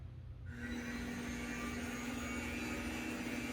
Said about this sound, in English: we're going to turn on our turbine